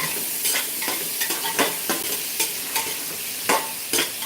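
Spatula stirring spices in a hot cooking pan, with a steady sizzle under a quick series of scraping strokes, close and moderately loud, no voices.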